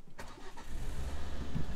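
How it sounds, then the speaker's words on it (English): A Ford ST with a five-cylinder engine cranks and fires up close by, a short starter whir followed by a rising, throaty cold-start idle that carries on steadily. "you can hear that 5-cylinder noise"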